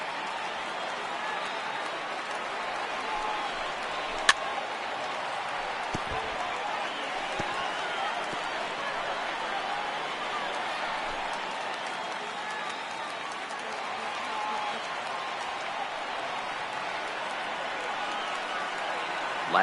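A large ballpark crowd of around 21,000 roars and applauds in MLB The Show 18 as the home side nears the final strike against Houston, a steady, dense cheer that fills the whole stretch with a commentator's voice over it.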